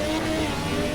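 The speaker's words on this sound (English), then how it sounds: "That engine sounds way too loud though." A race car engine in the racing game Project Cars revs loud and steady, a dense continuous roar with no talk.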